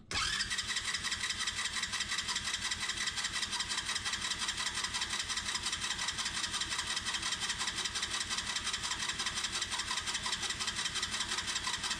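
A mini jeep's small engine being cranked and catching after a new fuel tank install, a fast steady chugging that runs evenly and fairly loud throughout, with no voices.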